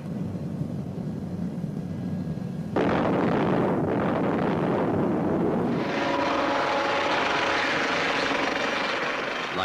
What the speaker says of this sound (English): frigates are also equipped with the Lynx helicopter